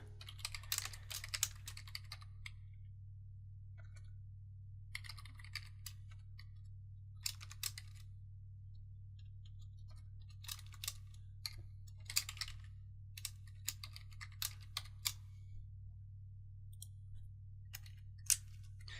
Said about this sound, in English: sorry, not typing too good today.